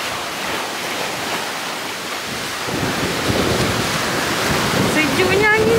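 Seaside by rocks just after heavy rain, with a steady broadband rush of waves and wind buffeting the microphone, growing louder partway through and continuing throughout.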